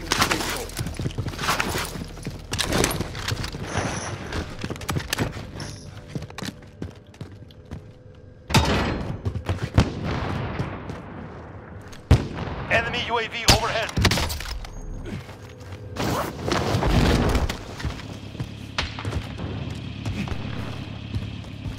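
Bursts of gunfire and thudding impacts from a sniping video game firefight, loud and recurring in clusters with sharp attacks, mixed with game noise and voices talking over the action.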